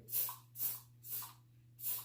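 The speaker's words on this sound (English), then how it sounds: "I guess I'm supposed to spray it under my underarms" Four short hissing bursts of deodorant aerosol spray, evenly spaced and fairly quiet, with a low steady hum underneath.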